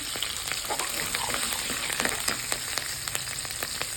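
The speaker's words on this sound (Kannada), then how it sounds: "ಕರಿಬೇವು, ಹಸಿಮೆಣಸಿನಕಾಯಿ ಹಾಕ್ಕೊಳ್ತೀನಿ" Curry leaves and green chillies sizzle and crackle in hot oil with fenugreek powder for poha, a steady close frying hiss scattered with sharp pops and a few stirring scrapes.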